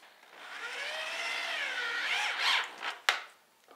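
A hammer drill drives a bolt with a 9/16 socket on a boat trailer, giving a rising and falling whine for about two seconds, then a few short bursts and a sharp knock.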